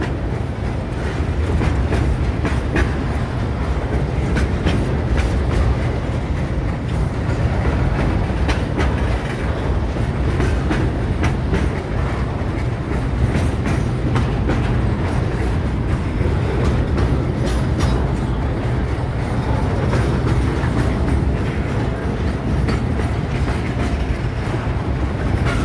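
A freight train passes close by on rails, a loud continuous rumble with rhythmic wheel clatter from its wagons, steady throughout with no voices heard.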